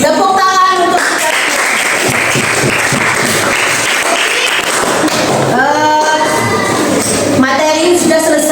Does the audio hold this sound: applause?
yes